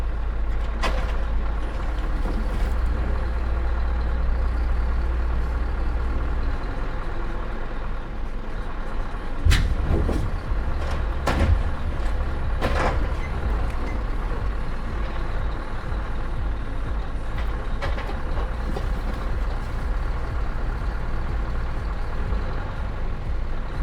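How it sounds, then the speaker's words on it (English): A TMK 400 firewood processor running, its hydraulic shear jaws cutting wood amid a loud continuous engine and hydraulic drone, with a few sharp cracks and knocks as the material is severed. "the hydraulic system powers the jaws, generating immense pressure to sever the material"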